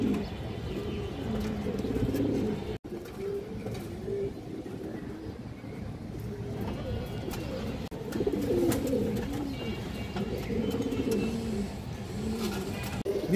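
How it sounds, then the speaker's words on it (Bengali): Black Sabchila and Budapest high-flyer pigeons coo over a dense background of murmuring and rustling. Their low burbling phrases recur throughout, with a sharp click near the start. "এটা 3-4 ঘন্টা 5 ঘন্টা উড়ে কিন্তু এই কবুতরগুলো সাবচিলা কবুতর কালো।"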